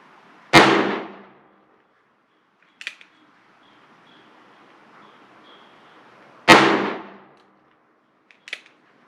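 .357 Magnum revolver shots with RCBS 180-grain cast bullet handloads, two sharp loud reports about six seconds apart outdoors, each followed by a faint distant echo or target ping.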